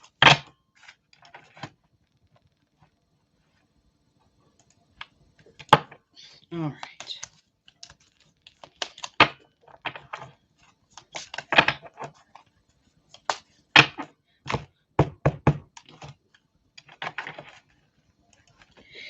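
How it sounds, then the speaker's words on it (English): Tarot cards shuffle in a quiet room, with sparse irregular crisp riffling and tapping bursts, close, and a brief spoken phrase. "Let me just shuffle these a little more."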